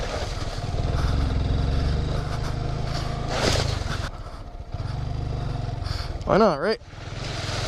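Honda Grom motorcycle fitted with dirt tires rides a trail, its small engine droning steadily and rising briefly as it revs, with people talking over it.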